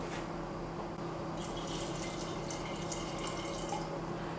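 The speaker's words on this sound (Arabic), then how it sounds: "أنا باش نزيدها شوية ماء." Water poured into a simmering tomato sauce on the stove, a steady soft trickle and splashing over low kitchen hum, close and continuous with no talk.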